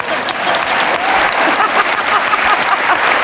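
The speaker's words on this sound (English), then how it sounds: "I'm getting some applause here" Loud, close crowd applause at a live conference session, a dense uninterrupted burst of clapping throughout, with faint voices mixed in.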